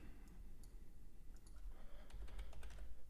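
Keys clatter on a computer keyboard in quick, irregular bursts of clicks, close and fairly quiet over a low steady room hum, with a denser flurry of keystrokes toward the end.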